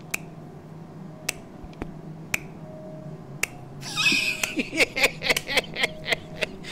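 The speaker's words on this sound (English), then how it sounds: "just did a golf clap" A few soft, slow claps given as a mock golf clap, spaced apart and then coming in a quicker run of brief sharp hits near the end, close and fairly faint over low background hum.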